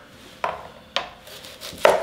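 A knife chops through the top of a vegetable on a cutting board: three sharp, distinct knocks, evenly spaced and close, with quiet between strikes.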